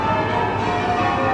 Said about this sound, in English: Just listen to those bells. That's Southwark Cathedral there